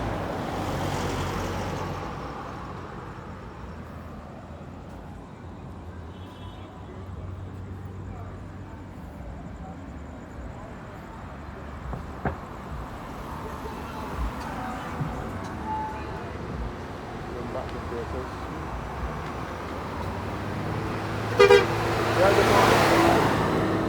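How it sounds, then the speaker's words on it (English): At Granville Williams bus terminal in Bridgetown, Barbados, traffic and buses rumble steadily nearby, with scattered engine and clatter sounds and a horn toot near the end. "So this is the bus terminal here as well. Granville Williams bus terminal."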